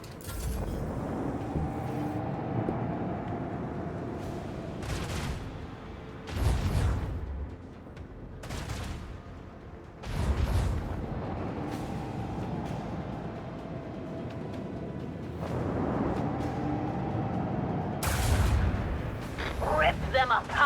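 In a grimdark sci-fi space battle video game, a volley of torpedoes launches and explodes against a ship. Repeated heavy booms and rumbling blasts arrive every few seconds over a constant mechanical drone, with a voice talking in places.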